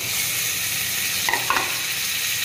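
Chicken pieces for biryani stirred into sautéed masala in a pan, producing a steady close sizzle with a couple of brief scraping stir strokes.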